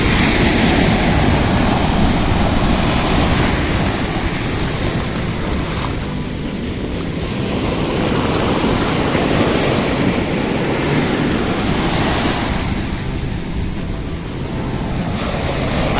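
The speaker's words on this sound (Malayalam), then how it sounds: "അതാ അടിപൊളി തെര, അടുത്ത തെര അതാ അടിപൊളിയായിട്ട് പോയിക്കൊണ്ടിരിക്കുന്നു." Ocean waves at Padinjarekkara beach in Ponnani, beside a breakwater: loud, continuous surf with rolling swells that rise and fall, mixed with gusty wind buffeting the microphone and no voices.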